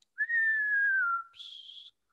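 A human voice whistles in imitation of a falling cartoon explosion whistle: a long, smoothly descending tone for about a second, then a brief higher, steady whistle, heard alone and close.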